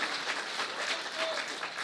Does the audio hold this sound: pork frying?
no